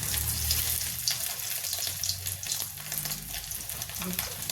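Small whole potatoes fry in very hot oil on a gas stove for a rustic chaat, a dense crackling sizzle that runs continuously at close range.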